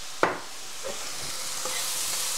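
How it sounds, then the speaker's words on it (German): Mushrooms and wild boar bacon fry in a pan for a carbonara, a soft steady sizzle with a sharp clank of a utensil near the start and occasional stirring scrapes. "Mal schauen, dass mir hier meine Pilze und mein Speck nicht anbrennen."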